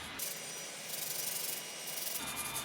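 The washer from a scythe's top handle is rubbed clean, giving steady close scratchy abrasive rubbing, faint and continuous, with no voice.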